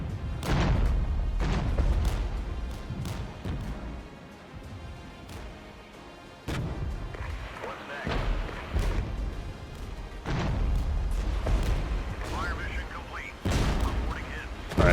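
Mortar artillery fire in the strategy video game Regiments: repeated heavy booms and crashing impacts, some sharp and close, others rumbling, spread irregularly across the span with faint battlefield mechanisms and low voices in between.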